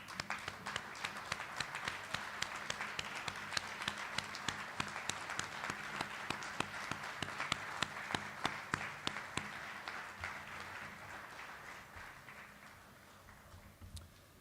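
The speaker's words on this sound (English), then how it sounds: "let's give them a round of applause." An audience at a Pearl Harbor Day ceremony applauds sailors who served on the USS Intrepid, with sharp, distinct claps growing into sustained clapping that thins out and fades toward the end.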